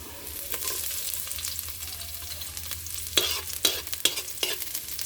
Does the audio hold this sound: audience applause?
no